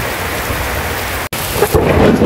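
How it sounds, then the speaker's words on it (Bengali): Heavy rain pours down loud and steady while thunder rumbles through it, the downpour dropping out for an instant before swelling again. "বৃষ্টি শুধু বাড়তেছে আর বাড়তেছে"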